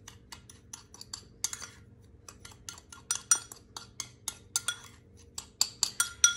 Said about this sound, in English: Now I'm gonna grab a spoon and we're gonna stir this around